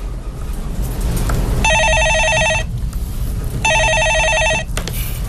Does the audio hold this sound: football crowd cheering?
no